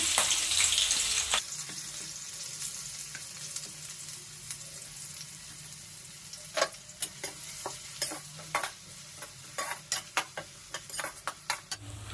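Onion and green chillies fry in oil in a pan: a steady sizzle at first, then a quickening run of spatula scrapes and clinks against the pan, close and moderately quiet, with no talking.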